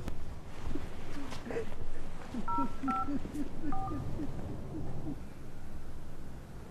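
Telephone keypad tones beep in a quick run of dialed digits, faint beneath a low hooting background murmur, with a voice briefly heard.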